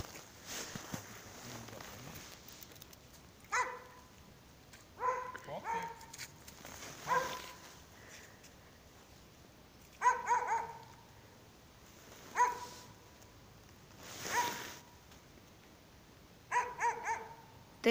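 A dog barks on a frozen lake during winter ice fishing, about eight separate barks spaced a few seconds apart, moderately close, with a faint voice in the background.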